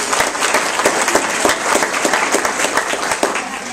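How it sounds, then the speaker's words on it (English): Dense applause from a crowd, many hands clapping at once in a steady, lively patter throughout. "Applause, applause."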